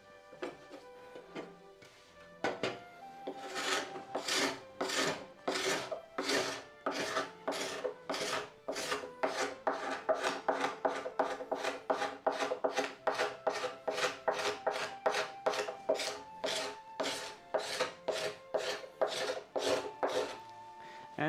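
A hand scraper rasps along old wood during a door restoration, with about forty close, rhythmic strokes that come fast and evenly after a few quiet seconds. No talk.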